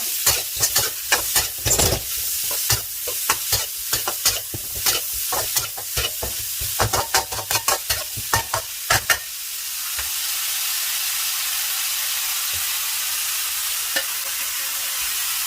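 Pork and holy basil stir-fried in a wok, a Thai dish: sharp, rapid scrapes and tosses of the spatula over a loud sizzle for the first nine seconds, then a steady, even frying hiss with the odd clink.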